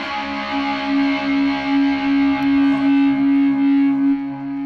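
Electric guitar played through a distortion pedal at a live band performance, a loud sustained fuzzy chord ringing steadily for several seconds with no voices.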